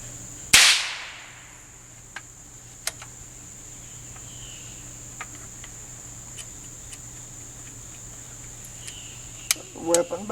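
A Knight black powder muzzleloading rifle fires once with a percussion cap ignition, a single sharp loud crack near the start that decays quickly, followed by faint clicks and handling noises in an otherwise quiet outdoor setting.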